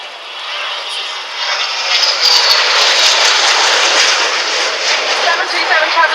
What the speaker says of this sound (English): you can see the 727 flying in from the right-hand side